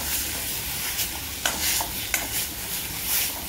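Ground masala and garlic sizzle steadily in a pan, a close, constant frying hiss broken by a couple of sharp scrapes of the spoon as it is sautéed. No voices are heard.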